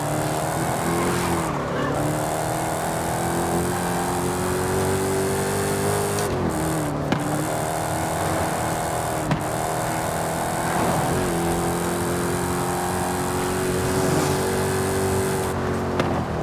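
A Dodge Challenger SRT Demon races in Forza, its loud engine roaring continuously and rising in pitch through repeated gear shifts, with brief bursts of tyre noise scattered across the run.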